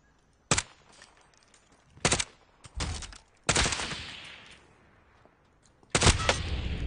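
Video game gunfire comes in several loud bursts of rapid shots separated by short pauses, ending in a sustained volley.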